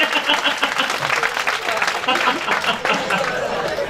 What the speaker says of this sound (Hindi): एक बार जोरदार तालियां बजाओ कैसेट के लिए